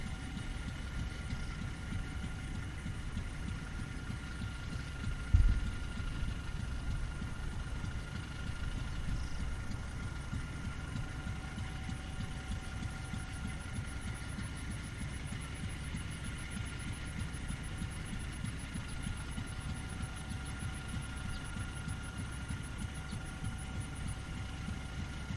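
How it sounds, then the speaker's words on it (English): Engine of an oilfield pulling unit idling steadily while running in rods, a continuous low rumble holding throughout with no speech. "Engine sounds like it's running okay."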